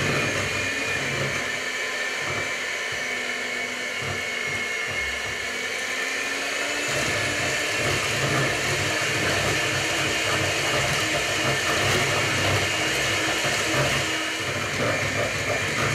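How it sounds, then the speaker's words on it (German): An electric hand mixer whirs steadily while beating batter made with oil and milk, a continuous close, fairly loud motorized drone with a faint rattling edge and no talking over it. "dann können wir unseren Mixer anschalten"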